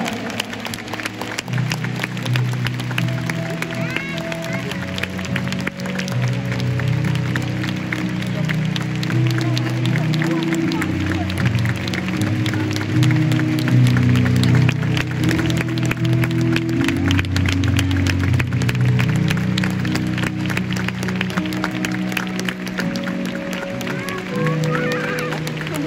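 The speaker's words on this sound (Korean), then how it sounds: "여러분 다시 한번 기립 박수로 우리 레전드 최철순 선수를 맞이해 주시기 바랍니다" A stadium crowd gives a standing ovation at the retirement ceremony for Jeonbuk Hyundai legend Choi Chul-soon, with dense sustained clapping and cheering that rolls on steadily. Over it an announcer speaks through the PA.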